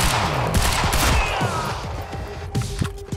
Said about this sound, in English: The gunshots are being hidden because we got fireworks in the background.